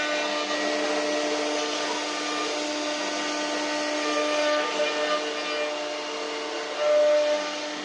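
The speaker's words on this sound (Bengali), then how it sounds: "মেশিন সেই অনুযায়ী কাঠের উপর জীবন্ত করে তোলে সেই নকশা" An automatic CNC machine carves a design into wood with a continuous high whining hum and hiss. Steady tonal lines hold throughout with little change, and a brief swell comes near the end.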